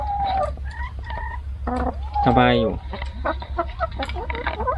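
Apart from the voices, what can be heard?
chickens in a backyard chicken coop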